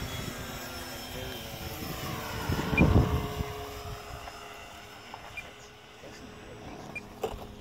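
A small aircraft lands in the Sonoran desert, its engine a steady drone that swells briefly near the middle with a scraping rumble of touchdown, then settles into a low continuous hum.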